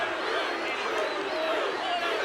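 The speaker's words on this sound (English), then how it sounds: "And the crowd is erupting here." Wrestling arena capacity crowd roaring continuously, a dense, steady wash of cheering and shouting throughout with no clear breaks, sounding large and reverberant.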